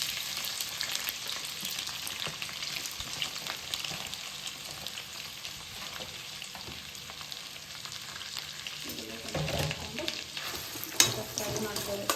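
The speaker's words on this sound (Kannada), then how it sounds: "ಅದು ಸ್ವಲ್ಪ ಫ್ರೈ ಆದಮೇಲೆ ಈರುಳ್ಳಿ ಹಾಕ್ಕೊಳ್ಳೋಣ. ಈರುಳ್ಳಿ ಮತ್ತು ಟೊಮ್ಯಾಟೊ." Onion and tomato frying in oil with bay leaf, cinnamon and cloves, a continuous close sizzle with scraping stirs, a brief louder clatter near the end, no talk.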